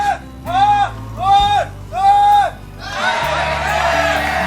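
A packed StarCraft tournament crowd at the 2010 GSL cheers and whoops loudly in three rising swells, then settles into a dense, steady roar of noise under low rumble.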